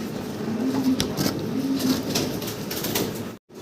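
Fancy pigeons at a breeding farm coo softly in short repeated phrases over dense, steady background noise, with no voices and a brief dropout near the end.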